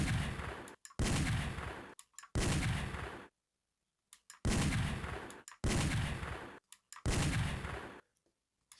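Light-gun shots fired in the arcade game Time Crisis, six loud booming bursts of gunfire at a steady pace, each lasting about a second and separated by short silent gaps.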